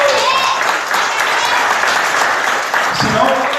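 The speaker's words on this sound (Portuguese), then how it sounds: "Aplauda o Senhor Jesus" Church congregation applauding during a worship service, a steady, loud, dense roar of many hands clapping throughout, with faint voices underneath.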